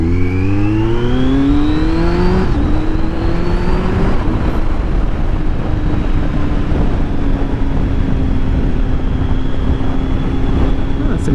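A heavy army truck passes close by, its loud engine note rising then sliding down in pitch as it goes, leaving a steady rumble and broad road noise for the rest of the pass.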